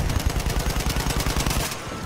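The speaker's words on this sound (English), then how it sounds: "you just gotta keep shooting explosives at it" Rapid bursts of explosive gunfire from a multiplayer shooter video game, fired continuously at a target in a steady, loud rattling barrage for about two seconds with no talk.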